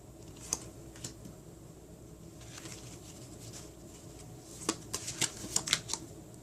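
Tarot cards are drawn and handled, giving soft, quiet shuffling and flicking, with a cluster of sharper card snaps toward the end.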